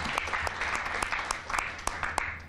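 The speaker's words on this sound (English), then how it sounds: "Can we please give our members a round of applause as well?" An audience claps steadily throughout, a dense patter of many hands with a few sharper claps standing out.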